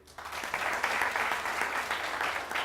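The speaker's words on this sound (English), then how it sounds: "A huge round of applause to all the senior members present here." A TEDx audience breaks into applause for the senior members present, swelling quickly from near quiet into a full, steady roar of clapping hands that holds to the end.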